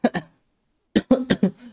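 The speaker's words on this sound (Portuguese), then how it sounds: "Perdão, pessoal, tossi" Two quick coughs, then a short pause and a burst of four more, close and loud, from a person playing Super Mario Bros. Wonder.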